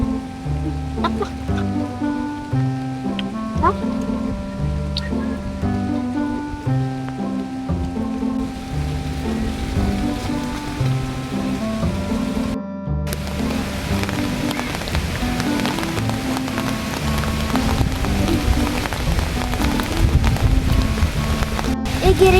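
Heavy rain pours down with a dense, even roar that swells louder toward the end, while tuneful music plays underneath for the first half.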